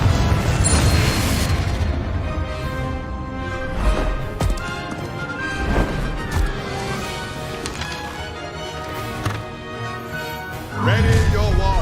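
Confringo spell blasts in the Hogwarts Legacy video game come as repeated booming bursts amid battle effects and music, loud and spread across the stretch, with a heavy hit near the end.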